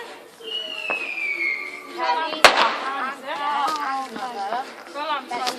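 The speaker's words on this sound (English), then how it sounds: "Firework now." A firework goes off on Bonfire Night, beginning with a falling whistle and then one sharp, loud bang. Excited voices talk over it and keep talking after the blast.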